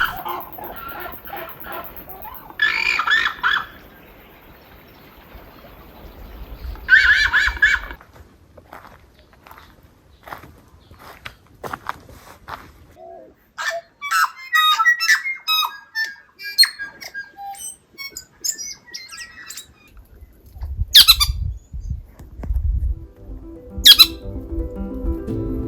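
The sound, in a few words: birds squawking at Paradise Bay, Bay of Islands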